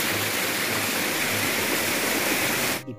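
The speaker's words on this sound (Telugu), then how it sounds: "యాక్చువల్లీ ఇది వర్షానికి వచ్చిన వాటర్ ఫాల్స్ లాంటిది." A rain-fed waterfall at Sileru pours down from above in a loud, continuous rushing hiss, heard close by, until it cuts off abruptly near the end.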